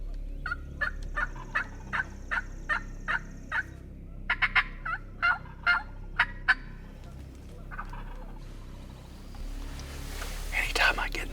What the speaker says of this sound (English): That turkey's literally gobbling his head off